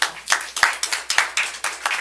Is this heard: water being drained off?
no